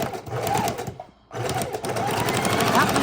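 A sewing machine stitching through a junk journal book page: a steady close mechanical whirr with fast needle chatter, stopping briefly for a turn and then resuming, with someone talking over it.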